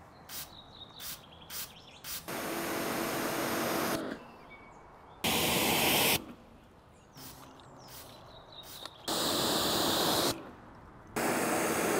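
Bursts of broadband hissing ceramic coating spray onto a BMW M2 start and stop repeatedly, some short and some lasting a second or more, with faint chirpy background noise between them.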